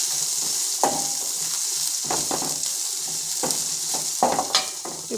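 Chopped onions sizzle loudly in hot oil with popped cumin seeds for cauliflower fried rice, a dense steady crackle broken by several clanks and scrapes of a stirring spoon against the pan, with no one speaking.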